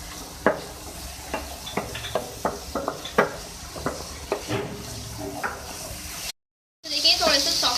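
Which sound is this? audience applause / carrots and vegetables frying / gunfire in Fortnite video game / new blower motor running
carrots and vegetables frying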